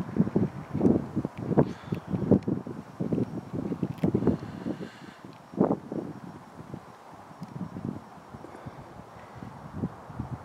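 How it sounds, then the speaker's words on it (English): Strong wind blowing outdoors late at night, gusting and buffeting against the microphone in uneven low rumbling bursts throughout, fairly close and continuous with no voices. "Quite a strong wind blowing."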